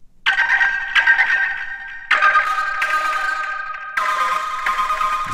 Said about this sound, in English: There's a distortion there.